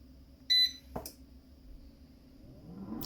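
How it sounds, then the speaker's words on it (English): An air fryer beeps when its cooking cycle finishes, a short bright electronic tone followed by a second quick chirp in a quiet kitchen, with faint background hum. "the air fryer's just beeped"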